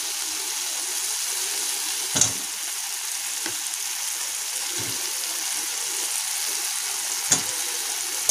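Fried potatoes go into a simmering, well-cooked spice paste for a rohu fish curry, giving a steady close sizzle and bubble in the pan, broken by a few soft thuds as pieces drop in.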